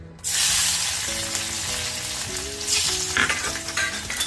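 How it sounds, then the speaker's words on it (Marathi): Fifteen or sixteen crushed garlic cloves drop into hot oil, bursting into a sudden loud sizzle that crackles on steadily, with tonal music playing underneath. "पंधरा सोळा लसूण पाकळ्या ठेचून घेतलेल्या आहेत ठेचूनच घालायचं आहे"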